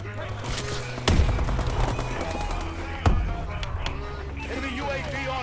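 Rifle gunfire in the shooter game Call of Duty: Advanced Warfare, a busy mix of shots with two louder bursts standing out over background battle noise, with a player talking over it.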